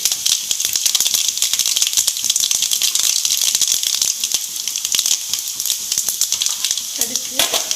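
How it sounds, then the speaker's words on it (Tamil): Mustard seeds and urad dal spluttering and crackling in hot coconut oil in a pan, a dense, steady stream of sharp pops and sizzle throughout, close and loud, with a brief clatter near the end. "எண்ணெய் காஞ்சதும் கடுகு உளுந்து பொரிஞ்சதும் சோம்பு."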